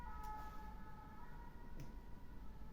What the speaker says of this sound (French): Merci la sirène